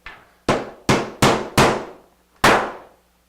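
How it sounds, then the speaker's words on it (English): A real hammer strikes a 3D printed semi-rigid FD70 part six times in an uneven rhythm, each hit a loud, sharp, close knock with a short ringing decay and no talk. "This is a real hammer, okay?"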